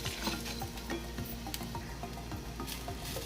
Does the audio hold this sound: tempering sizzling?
yes